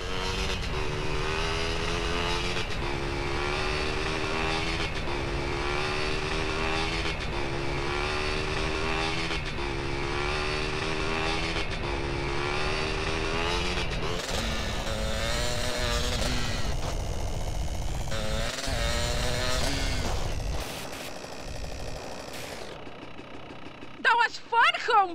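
Car driving in GTA San Andreas during the Badlands liquor store mission: a steady engine drone with shifting revs throughout, under talking voices, fading near the end.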